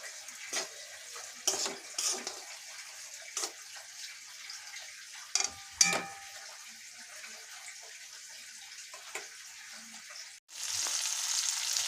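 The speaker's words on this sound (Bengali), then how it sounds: "আর এখানে আমি ডাল 250 মতন ডাল ভাজা করছি, ভেজে নিচ্ছি।" About 250 grams of lentils fry in a pan, giving a quiet, continuous sizzle broken by scattered scrapes and clinks of stirring, then a louder burst of sizzling at the end.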